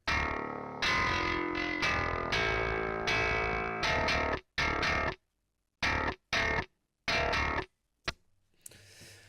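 Heavily distorted bass guitar played through an amp plugin in bursts of sustained notes and short stabs, separated by brief silences, loud and gritty.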